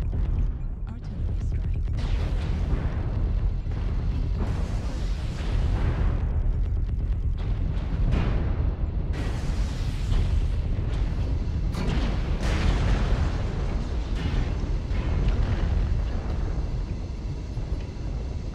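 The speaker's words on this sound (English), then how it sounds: "Artillery" Heavy artillery fire pounds repeatedly in a 14SPL Gargoyle mech game, with dense booming blasts and bursts that overlap continuously at close range, loud throughout.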